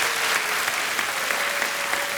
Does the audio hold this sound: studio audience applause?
yes